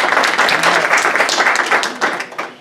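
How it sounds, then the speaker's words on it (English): An audience at a West Seattle senior living residence applauds Sharon, steady clapping close and fairly loud, tapering off toward the end. "A good resounding applause for Sharon, his honor's wife."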